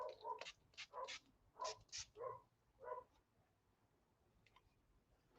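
Several dogs bark outside at a neighbor's dog in quick bursts, a cluster of sharp barks followed by a few more spaced out, somewhat distant and muffled.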